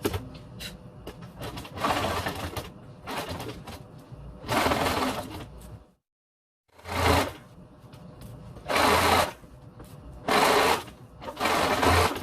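Sewing machine stitching boxed cushion fabric for a bay window banquette, running in repeated bursts of steady mechanical whirring with a brief full stop midway, close and alone.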